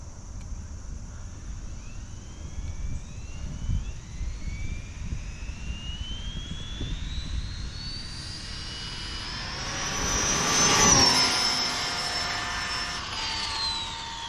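Arrma Limitless 120 8S ready-to-run RC car on a speed run, a high electric whine rising steadily in pitch as it accelerates, swelling louder as it passes near, then fading.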